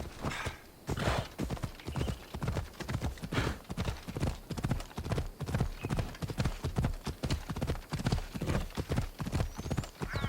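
A horse gallops in Assassin's Creed Odyssey, a steady, rapid clip-clop of hooves that runs loud and close throughout, with a brief whinny near the start.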